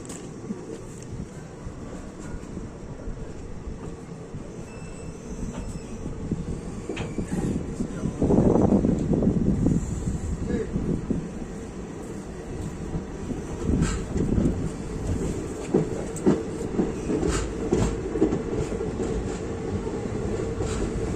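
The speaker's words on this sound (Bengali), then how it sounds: "তো এখন আমরা ছাড়ছি হচ্ছে কাটোয়া জংশন" Uttarbanga Express passenger train pulling out of Katwa Junction, a steady rumble of wheels and rail clatter running throughout, swelling briefly louder partway through, heard from on board.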